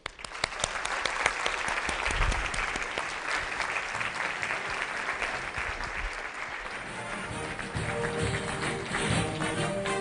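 An audience at a GLISI Base Camp event applauds steadily as Dr. Dan Kaufman comes to the stage, dense clapping filling the room for about ten seconds, with a few voices murmuring underneath.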